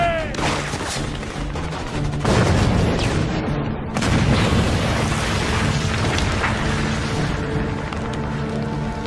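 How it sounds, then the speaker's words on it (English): A grenade blast in an action movie firefight, loud booms and heavy gunfire filling the scene, with shouted voices scattered through the continuous roaring chaos. "Grenade!"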